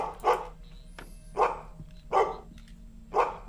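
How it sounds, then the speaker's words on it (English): A dog in the horror video game The Directors Disorder barks four times in sharp, evenly spaced woofs over a quiet humming background. "What are you doing, stupid dog?"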